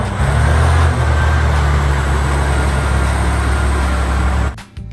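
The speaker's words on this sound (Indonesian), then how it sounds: "Yang ini truk tambang." A remote-control mining truck drives with a steady, loud electric motor drone and gear whine close to the microphone, then cuts off abruptly near the end.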